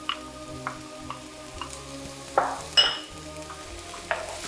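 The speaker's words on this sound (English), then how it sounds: "To the onions and the peppers, I'm going to add some mushrooms." Mushrooms tipped into a pan of frying onions and peppers, a low sizzle under light ticks and a few louder clunks and scrapes as they land and get moved around.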